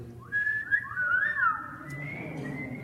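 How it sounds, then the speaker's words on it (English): A wolf whistle from a participant in a group sing-along game: a clear rising-then-falling two-part whistle, fairly close and loud, followed by fainter whistling, with no talking. "When you hear the word wolf, you're going to give a wolf whistle"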